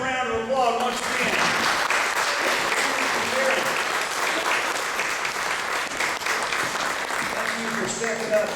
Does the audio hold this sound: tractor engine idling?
no